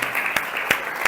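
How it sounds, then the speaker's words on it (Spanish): An audience bursts into brief applause after hymns at a gospel gathering, a short burst of clapping with a few louder claps standing out. "un aplauso"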